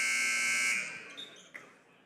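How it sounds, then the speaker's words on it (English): A high school basketball game buzzer sounds one loud, sustained electronic blare that cuts off and fades into faint gym ambience with a couple of brief knocks. "And a buzzer."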